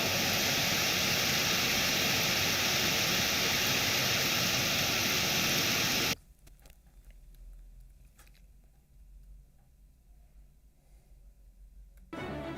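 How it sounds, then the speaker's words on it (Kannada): Floodwater pours into the Savadatti Yellamma temple in Karnataka during heavy rain, a loud, steady rushing roar that cuts abruptly midway to a much quieter low rumble, with no speech. "ದೇವಸ್ಥಾನದ ಒಳಗೆ ನೀರು ನುಗ್ಗಿದೆ"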